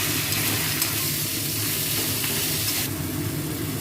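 A paste of seeded bananas fries in a pan, giving a loud, continuous, close sizzle and hiss with light stirring, and the hiss brightens sharply near the end; no one speaks.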